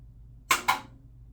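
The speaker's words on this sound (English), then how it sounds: "you're going to hear it start to fire" An electric ceramic kiln gives two quick sharp beeps or clicks as it starts to fire, close and brief against a quiet background.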